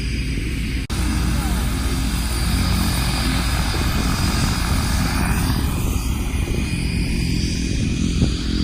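A skydiving plane's engine and propeller drone loudly and steadily inside the cabin before a jump in Michigan, a close, continuous roar with no breaks.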